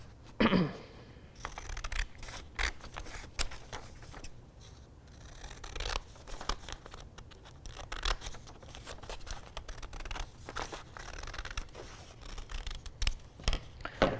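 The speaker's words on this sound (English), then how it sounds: "then I can go ahead and cut this out" Scissors cut fleece fabric for lining a crocheted hat, with repeated crisp snips and rustling of material throughout, close and fairly quiet, irregular in rhythm.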